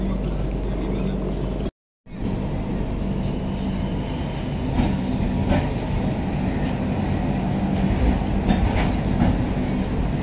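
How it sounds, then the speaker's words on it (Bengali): The Puri–Shalimar Dhauli Express (12822) rolls into a station with a continuous loud low rumble and faint rhythmic clacking. The sound drops out briefly near the start. "উদ্ধার রোডে এলো ট্রেন"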